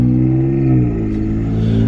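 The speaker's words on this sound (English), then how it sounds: "This car is coming so fast down here. Oh, it's a pickup truck." A pickup truck drives past at speed, a loud, close engine rumble with a steady low drone that shifts slightly in pitch as it goes by.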